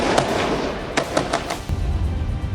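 Blast from Israeli forces demolishing a house in Hebron, heard as a series of sharp cracking bangs over the first second and a half, followed by a deep rumbling roar that keeps rolling on to the end.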